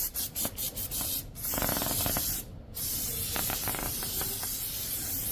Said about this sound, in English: Going to use some brake parts cleaner to clean it off.